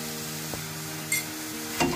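Paneer cubes being stir-fried with ginger, salt and black pepper make a low sizzle, broken by a few sharp scrapes and clinks of stirring, all under background music.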